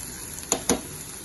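Potato bhaji sizzles in ghee in a home kitchen pan: a steady close hiss with two sharp, louder spits and crackles about a fifth of a second apart.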